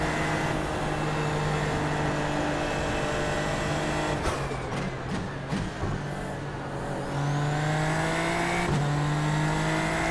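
A Super Formula Lights race car engine at Fuji in the iRacing simulator, a loud sustained high-revving drone that briefly drops during a lift before climbing again, with no talk.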